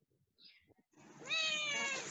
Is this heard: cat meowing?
yes